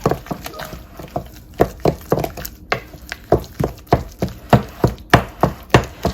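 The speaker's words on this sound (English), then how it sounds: "I'm just going to keep on chopping it." A knife chops a black bean burger mixture rapidly on a board, each sharp thud landing in a quick, uneven rhythm, close and fairly loud with nothing else over it.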